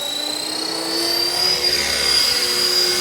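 Blade 330S radio-controlled helicopter flying outdoors, a steady high rotor whine and buzzing motor tone holding throughout, fairly close and swelling slightly louder midway, with no talk over it.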